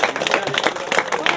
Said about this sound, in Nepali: सबैले ताली पड्काइदिनु त।